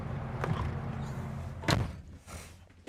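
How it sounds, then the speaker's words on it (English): The door of a 2026 Newmar Grand Star 3444 Super C motorhome being pulled shut, with a soft thump and then a louder, solid slam and latch a moment later. "Let me get that door."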